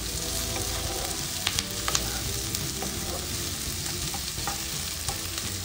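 Onions lightly frying in a pan: a steady, close sizzle with occasional stirring knocks and small pops.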